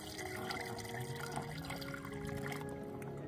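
Water running into the cooling system of a Dodge Magnum 5.7 during a coolant flush, a steady, faint trickling and gurgling that continues throughout with no talk over it.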